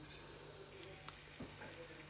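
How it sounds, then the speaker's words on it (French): Beef browning in oil in a saucepan makes a quiet, continuous sizzle, with a few soft clinks and stirring scrapes near the middle. "je vais rajouter de l'huile et je vais mettre la viande à l'intérieur. Vous voyez, je vais faire juste revenir"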